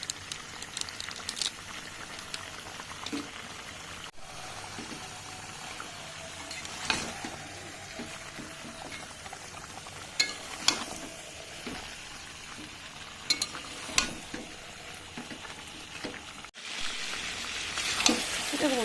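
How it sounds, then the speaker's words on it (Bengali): Meat frying with meat masala in a pan, a steady sizzle broken by sharp scrapes and clacks of stirring at irregular intervals, close and continuous with no talk. "এবার কিন্তু আমি আরও কিছুক্ষণ ধরে মাংসটা ভালো মতন কষিয়ে নেব।"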